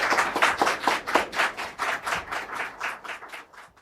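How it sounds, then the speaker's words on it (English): Audience at the South Georgia Film Festival applauding a guest during a live appearance: a steady run of distinct, fairly close claps that thins and fades toward the end. "everybody give him a huge round of applause."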